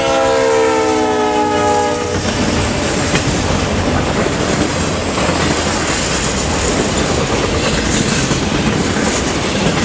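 A southbound Union Pacific wreck train passes close by: a loud multi-tone horn blast for the first two seconds, then a steady, heavy roar of rolling wheels and rattling cars.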